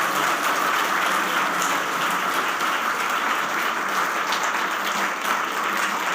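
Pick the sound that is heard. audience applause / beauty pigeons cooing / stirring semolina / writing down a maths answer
audience applause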